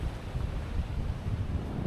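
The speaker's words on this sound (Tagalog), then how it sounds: "Grabe yung alon dito ngayon." Strong wind buffets the microphone at a beach in Botolan while heavy surf rumbles in the background, a continuous low roar with no clear individual wave breaks and no voices.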